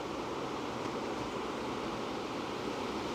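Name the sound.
ocean waves background sound for tinnitus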